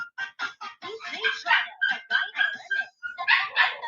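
A dog barks and yips in rapid, excited bursts at close range, a loud repeated run of sharp barks with brief gaps between them.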